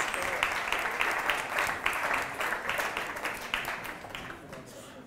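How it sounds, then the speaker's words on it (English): Audience applause during a talk, a fairly faint bed of crowd clapping that keeps a steady pulse before tapering off toward the end. "give him a round of applause"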